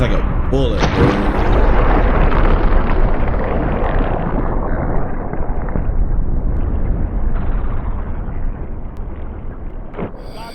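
Loud close blast of a supersonic Nerf dart fired with recoil, a sharp burst followed by a long rumbling roar that slowly fades, with a second short crack near the end.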